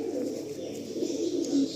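Tournament-quality pigeons coo low and steady at close range, a continuous soft murmur over background hum.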